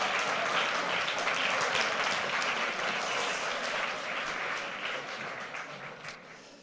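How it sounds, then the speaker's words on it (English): An audience at a mathematics magic stage performance applauds warmly, loud and sustained clapping that slowly thins and fades toward the end. "let's give all 4 of these people a nice round of applause"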